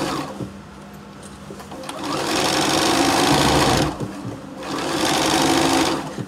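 A clunky-sounding sewing machine stitches a Christmas tree pouch in two loud, steady runs of rapid needle chatter, separated by a short pause with faint handling noise.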